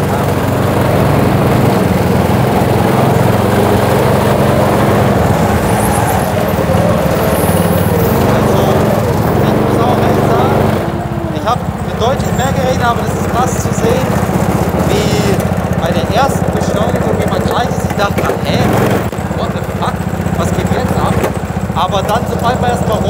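Go-kart engine carrying a 120 kg driver accelerates, a loud continuous buzzing drone with shifting revs, heard up close throughout.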